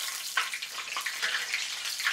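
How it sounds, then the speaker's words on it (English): Water from a just-washed donut strainer hits hot frying oil, giving a soft, continuous crackling sizzle sprinkled with small sharp pops, close by and fairly quiet. "so you hear the water."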